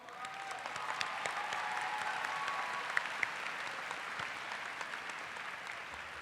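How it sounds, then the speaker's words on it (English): Sustained applause from a crowd at a high school graduation ceremony, many hands clapping in a broad, even wash that holds for several seconds, moderately distant, with a few sharper claps standing out. "can we give one more round of applause to these incredible people?"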